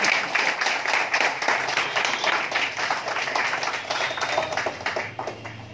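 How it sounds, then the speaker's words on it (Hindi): Loud, sustained applause from a theatre festival audience, dense clapping filling the space steadily and fading slightly at the end, with no voices over it. "बहुत जोर से ताली बजा दी।"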